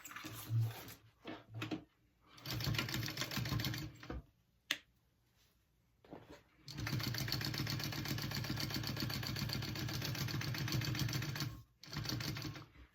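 A sewing machine stitches up the raw turned edge of a fabric tote bag in several close bursts, the longest running steadily for about five seconds near the end.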